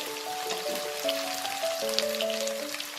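Potatoes fry in a covered pan over a slow flame, giving a soft, even sizzling crackle under a simple melodic background tune.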